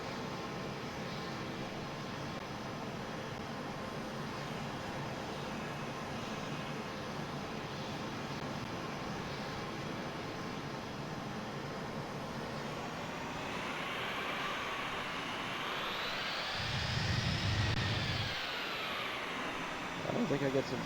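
A C-17 transport aircraft lands on a short runway, its engine roar swelling over steady cabin-level rumble and rising to a loud whine near the end, with people talking throughout.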